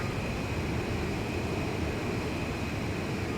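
A fighter jet engine in the combat flight game Ace Combat 5 over the icy Razgriz Straits holds a constant, dense roar with a faint steady whine, loud and unbroken throughout.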